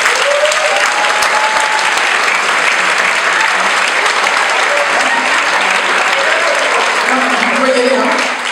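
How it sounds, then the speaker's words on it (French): Audience at a hypnosis show applauds loudly as hypnotized participants return to their seats, a thick, sustained wash of clapping from a large crowd that fades only at the very end. "Tout le monde peut les applaudir."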